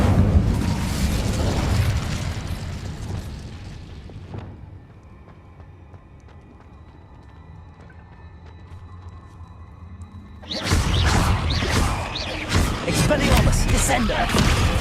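A roaring fiery blast from the Incendio fire spell in Hogwarts Legacy, loud and broadband at the start, fading into a quiet lull, then a second loud burst of crackling spellwork and impact noise.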